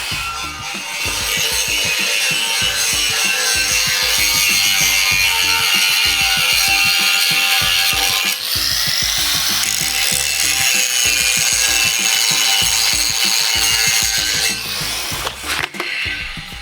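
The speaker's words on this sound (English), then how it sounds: "Just doing a final little polishing of the plate." A power tool polishes a steel plate on a chimney breast, making a loud, continuous grinding whine with uneven rhythmic strokes for around sixteen seconds, close to the listener and without talk.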